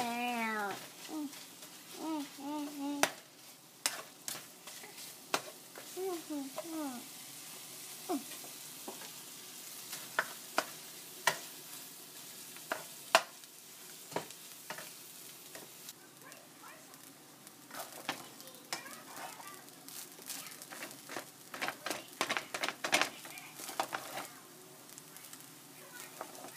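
Congolese fried rice sizzles quietly in a pan while a utensil stirs it, with scattered clicks and scrapes throughout and occasional talk in the background.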